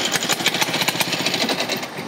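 A vintage motorcycle engine runs loud and close with a rapid, rough, steady pulsing beat during a 1000-kilometre veteran-vehicle ride.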